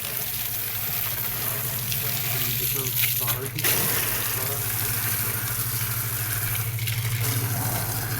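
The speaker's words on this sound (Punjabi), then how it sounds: "ਇਹ ਤਾਂ ਪਾਈਪ ਲੀਕ ਹੋਈ ਪਈ" Water rushing steadily from a leaking pipe at a home in Bathinda, a continuous loud splashing gush with a low droning hum underneath and a brief burst of voices partway through.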